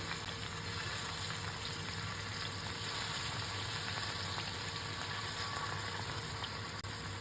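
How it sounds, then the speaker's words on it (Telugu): Washed salted fish pieces frying in a little oil on a flat pan give a steady, even sizzle with a low hum beneath it, continuous throughout and without speech. "కొద్దిగా నూనె పోయాలి దీనిపైన శుభ్రంగా కడిగిన చేప ముక్కల్ని వేయించుకోవాలి"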